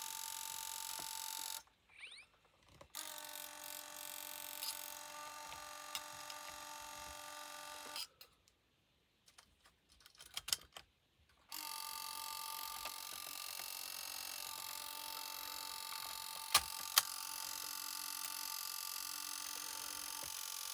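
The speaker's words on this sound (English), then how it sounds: "It sounds like something on the underside of the deck, because that spool is spinning." The tape spool inside a Panasonic NV-DS15 DV camcorder spins with a thin, steady whirring tone, broken by a few short pauses and some faint mechanical clicks.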